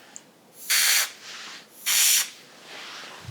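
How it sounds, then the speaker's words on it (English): Jewelry spray misted in two distinct bursts, each a loud hissing spritz lasting under half a second, separated by quiet pauses, close and alone. "we're adding a little bit of this jewelry spray, just will make it shine a little bit"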